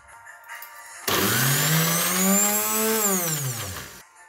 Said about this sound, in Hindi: अब एक ग्राइंडर में तमाम जो सब्ज़ी है इसे हम ग्राइंड करेंगे अच्छी तरीके से